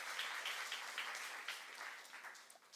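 A church congregation at a youth service claps, a soft and fairly distant patter of hands that thins out and fades over a few seconds.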